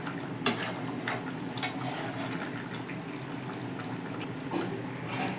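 A thin rohu fish curry with potato, papaya and lentil dumplings bubbles in a pot, a steady close simmer broken by a few sharp utensil clinks.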